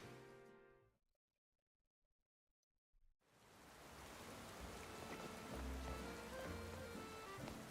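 Rain falls in the video game Pokemon Legends Z-A, starting after a near-silent pause and settling into a soft, continuous hiss of drops that swells slightly toward the end.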